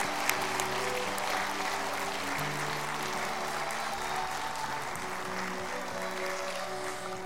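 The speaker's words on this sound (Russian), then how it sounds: "давайте встретим ее аплодисментами" An audience at a charity concert for disabled children claps in steady, dense applause that fills the hall and holds at an even level throughout.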